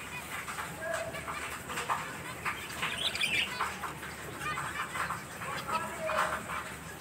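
Wet birds chirp and tweet in scattered bursts in a garden over a steady wash of heavy rain, with a few brief flutters.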